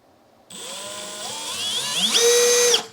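A Milwaukee M12 FUEL Gen 3 1/2-inch hammer drill (3404-20) runs in clutch mode, its motor whine starting abruptly and climbing steadily in pitch before cutting off. The sound is loud and close, with no voices.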